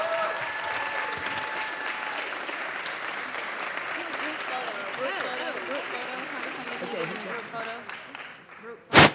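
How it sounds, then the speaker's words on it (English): Audience at a congressional panel discussion applauds the panelists, sustained clapping heard throughout with a few voices and murmurs mixed in, ending in a sharp knock. "Give them all a big round of applause."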